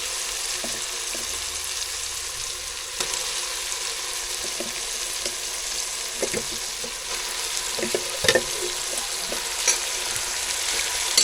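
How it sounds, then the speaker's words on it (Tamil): Mutton pieces fry in a pan of cooked-down onion and tomato for mutton curry, a continuous close sizzle with occasional scrapes and clinks of a spoon as it is stirred. "இதில் தேவையான வந்துட்டு மட்டன் ஆட் பண்ணிக்கலாம்"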